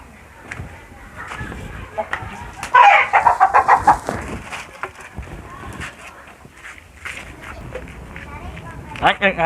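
Chickens cluck and squawk in short bursts close by, loudest in a flurry midway and again at the end, amid people talking in the background.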